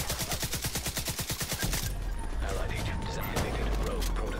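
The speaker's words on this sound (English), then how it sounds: "Hold on, I'm getting shot in the back." Rapid automatic gunfire in the Division 2 video game, a fast regular burst of shots for under two seconds, followed by a busy mix of further shots and game noise.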